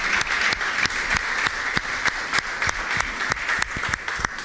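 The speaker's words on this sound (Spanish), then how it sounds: "vamos a darle un fuerte aplauso al Señor" A church congregation gives strong applause during a worship service. The clapping is loud and continuous, with sharp hand claps standing out at a fairly regular rhythm.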